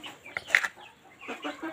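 Brahma chickens clucking softly nearby, a few short, sharp bursts of clucks and chirps in a brief, quiet stretch.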